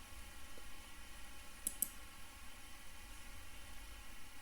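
Two quick, soft mouse clicks sound close together against faint background hiss while working through menus in IBM SPSS statistics software.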